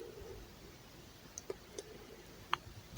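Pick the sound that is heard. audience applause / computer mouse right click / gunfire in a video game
computer mouse right click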